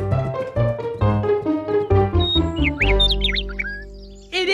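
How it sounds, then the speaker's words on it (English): A cartoon bird sings a bright, chirpy little melody of rising tweets and trills in an animated children's episode, loud and close, with a short spoken line at the very end. "Can you hear that? It sounds like Little Bird 1!"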